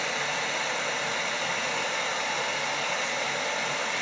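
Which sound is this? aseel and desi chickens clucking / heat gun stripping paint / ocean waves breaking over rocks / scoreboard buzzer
heat gun stripping paint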